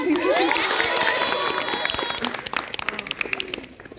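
A group bursts into loud, dense clapping with cheering and children's shouts mixed in; the applause is steady at first and then thins into scattered claps near the end.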